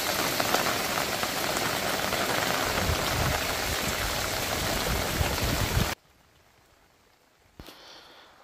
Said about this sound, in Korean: 잠시 빗소리 한번 들어보겠습니다